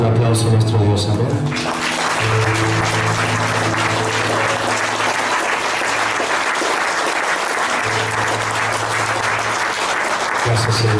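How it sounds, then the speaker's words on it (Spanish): A church congregation claps together during a sermon, a continuous, loud roar of many hands that runs throughout, with a sustained keyboard or music chord playing underneath. "Demos un aplauso a nuestro Dios."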